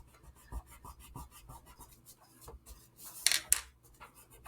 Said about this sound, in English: So I'm sort of rubbing my finger over it to make it look more orange.